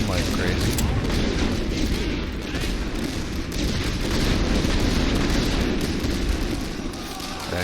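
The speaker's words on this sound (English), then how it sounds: "Right, they're getting hammered by enemy artillery" Sustained, dense rumbling booms of artillery fire from The Great War: Western Front, a WWI strategy game, rolling continuously at steady loudness through the whole stretch, with speech likely present underneath.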